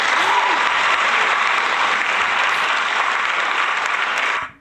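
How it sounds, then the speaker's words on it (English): A round of applause from a small group on a podcast awards episode, steady, dense clapping held close and loud for several seconds before cutting off abruptly. "let's give that a round of applause though, man."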